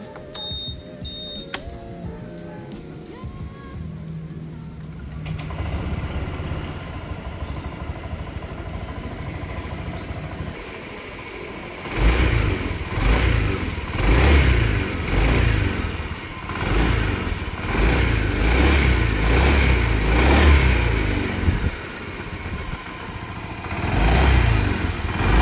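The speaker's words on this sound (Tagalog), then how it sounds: "Alright, sound check natin mga boss yung tunog ni Giorno." A Honda Giorno scooter engine idles quietly at first, then revs repeatedly in loud, close bursts that rise and fall for the rest of the stretch, with no talk.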